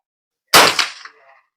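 A single sharp .22 LR rifle shot fired with Aguila ammunition at an outdoor range, a loud close crack followed by a short decaying echo.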